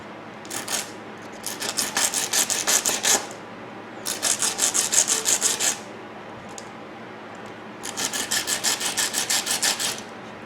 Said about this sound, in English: I'll rub it on a little bit with a fine sandpaper